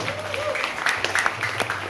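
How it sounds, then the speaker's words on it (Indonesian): People at a one-day workshop for phone repair technicians in Bekasi clap together, a steady patter of applause over a low electrical hum, with some voices underneath. "tepuk tangan yang bagi semua dong"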